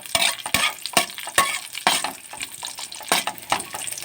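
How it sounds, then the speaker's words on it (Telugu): Cashews and vermicelli frying in hot ghee on a low flame give a steady close sizzle, broken by regular spoon strokes stirring through the pan roughly every half second; no one speaks. "నెయ్యి వేడెక్కిన దాంట్లో జీడిపప్పు ఇవి కొంచెం దోరగా వేగినాక తీసుకొని సేమియా వేసుకోవాలి."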